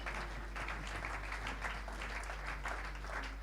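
A church congregation applauds after a sermon reading, producing steady, moderately distant clapping that holds evenly throughout over a low constant hum.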